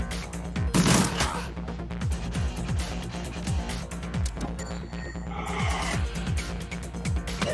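Gunfire in the video game Shadowrun Returns, repeated sharp shots popping at an irregular pace over a steady looping game soundtrack, with a louder burst near the start.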